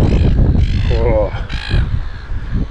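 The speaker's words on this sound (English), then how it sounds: "Natural alarm clock. Seagull." Seagulls on a remote island campsite give loud, close harsh calls and squawks in a rapid burst, with a person talking over them.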